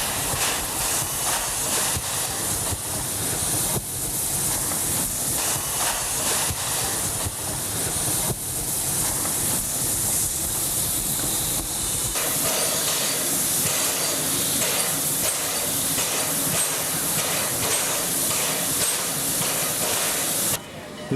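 Steam locomotive number 110 hauling a twelve-car passenger train from San Salvador to Sonsonate in Central America, giving a loud, continuous broadband hiss of steam close by that runs the whole time without a break.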